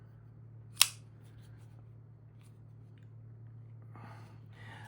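An MTech MX-A829BW spring-assisted folding knife flips open with a single sharp snap near the start, then a faint rustle of handling over a steady low hum.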